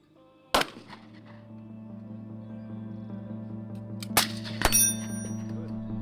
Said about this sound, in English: Handgun, you have to shoot offhand.